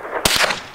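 A single sharp, fairly quiet crack from a brand-new rifle, compared to a Ruger 10/22 and fired for the first time at a target, followed by a brief decaying tail.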